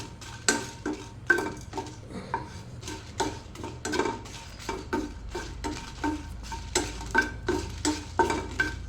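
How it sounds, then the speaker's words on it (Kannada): Four dried red chillies frying in the same pan after other ingredients, with a soft oily sizzle under repeated scraping and clinking strokes of a spatula stirring steadily throughout, close and fairly quiet, no voices. "ಇವಾಗ ಅದೇ ಪ್ಯಾನಿಗೆ 4 ಒಣಮೆಣಸನ್ನು ಹಾಕ್ತೇನೆ. ಇದನ್ನು ಕೂಡ ಇವಾಗ ಚೆನ್ನಾಗಿ ಫ್ರೈ ಮಾಡಬೇಕು."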